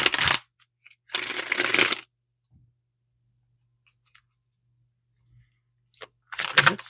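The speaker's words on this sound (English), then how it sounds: "Just going to give my deck a shuffle." A deck of reading cards shuffled in two bursts of riffling and rustling, close and fairly loud, split by a long quiet gap and picking up again at the end.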